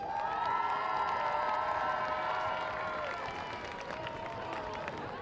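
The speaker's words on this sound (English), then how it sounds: "One more round of applause for Amari Sango." A crowd at a high school football game between the Stillwater Pioneers and Putnam City North Panthers in Oklahoma applauds and cheers in a distant, even roar, with tonal sounds layered over it.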